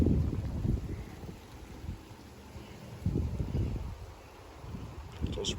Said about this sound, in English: It's also pretty windy